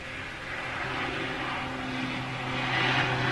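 A jet airliner climbs away after takeoff at Manchester Airport, its engines producing a loud, steady roar that swells slightly toward the end, with no voices.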